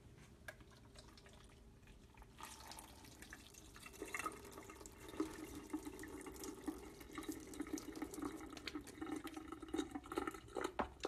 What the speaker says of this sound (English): Pour my coffee in.